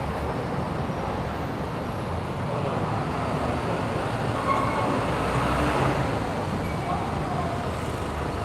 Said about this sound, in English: I'm under the bridge and under the trains right now